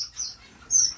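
Waxbill finches chirp in an indoor bird room, two bright bursts of high twittering calls close by, separated by a brief quieter gap.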